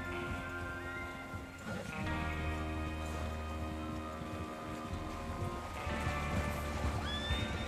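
In Red Dead Redemption II, a horse whinnies loudly, then hooves clip-clop steadily with a second whinny near the end, all close by.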